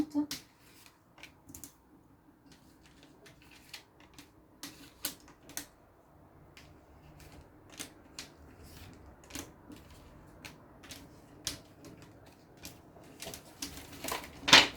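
Tarot cards being shuffled and drawn for a reading: scattered crisp flicks and soft card snaps, some in quick clusters, fairly quiet and close, with a voice speaking at times between them.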